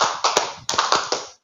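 Rhythmic hand claps at a primary school gathering, five sharp claps in a quick irregular sequence, close and clear with no talking.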